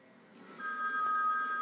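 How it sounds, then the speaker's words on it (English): An old-fashioned telephone bell starts ringing in a movie, a bright sustained metallic trill rising in after a quiet moment, with no voices. "Those are those old phones, Rico."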